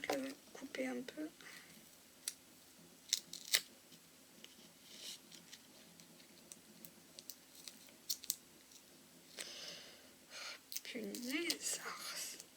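Sharp scissors snip through paper for a handmade autumn album cover in a series of short, close cuts and clicks, scattered among quiet whispered speech.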